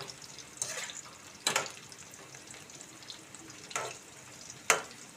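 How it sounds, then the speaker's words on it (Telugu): Sliced bitter gourd fries in a pan with a soft, continuous sizzle, broken by several sharp bursts of crackling as the pieces are stirred or tossed. "చక్కగా కలర్ మారేంత వరకు వేయించుకోవాలి"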